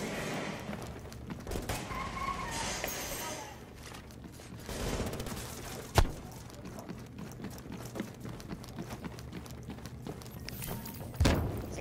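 Gunfire in the video game The Division, with bursts of shots and a couple of sharp louder cracks over busy game noise and running footsteps, while players talk throughout.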